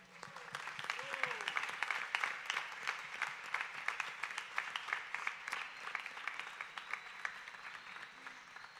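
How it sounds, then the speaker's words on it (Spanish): A congregation at a Catholic Mass applauds warmly, dense clapping sustained for several seconds with sharp individual claps standing out and faint voices underneath. "le ruego, le brindemos un fuerte aplauso"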